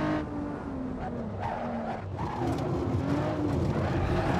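Nissan 350Z drifting in Assetto Corsa, the engine note rising and falling through gear changes while tires squeal in long wavering streaks, close and continuous over a few seconds.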